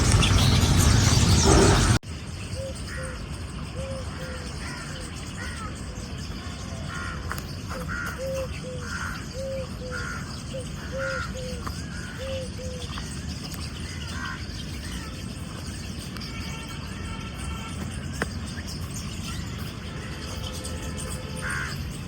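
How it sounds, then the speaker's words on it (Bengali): Crows caw in quick repeated series at a riverfront flower park beside the Sabarmati river in Ahmedabad, mid-distance over a steady outdoor hum with faint insect chirring, and no one speaking. "একদম প্রচুর পরিমাণ পাখি, ওদের কিচিরমিচির অনেক বেশি ভালো লাগছে"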